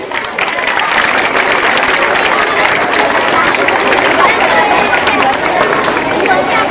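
Sustained loud applause from a school annual function audience, a steady wash of clapping with crowd chatter underneath throughout.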